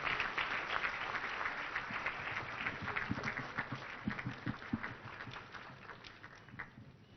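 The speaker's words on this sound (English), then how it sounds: "Please, a round of applause for His Excellency the President." An audience at a formal state address gives the President a round of applause, with dense, fairly distant clapping that fades toward the end.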